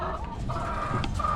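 Several hens cluck and chatter close by on a poultry farm, with overlapping short calls and a brief higher squawk over a busy coop background, no talking.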